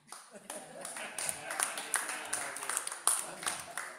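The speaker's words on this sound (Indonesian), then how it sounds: "Nah, tepuk tangan kok pelit." Sparse, scattered clapping from a church congregation during a sermon, a few separate claps rising over a steady voice.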